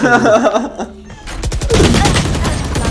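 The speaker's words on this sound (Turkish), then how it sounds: "Bekleyin küçük sniperlık yapacağım şimdi." Rapid gunfire in the shooter game Valorant, with a burst of sharp shots and dense firing after a brief voice, loud and close amid in-game effects.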